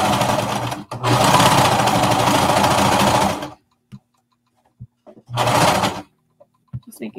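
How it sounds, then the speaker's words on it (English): A sewing machine runs in two steady bursts, topstitching around the neckline seam of a knit skater dress, with a short pause and then a few soft clicks and handling taps between runs. "I'm just going to tack that seam down, or top stitch it down"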